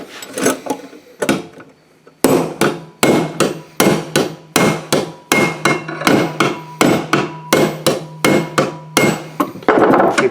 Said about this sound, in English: So we'll tap it a little bit with a hammer here and see what happens